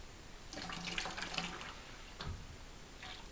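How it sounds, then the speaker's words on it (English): Fruit concentrate, not frozen, being poured into a container for wine making, a faint steady liquid stream and splashing close by, with no talk. "So we pour that in."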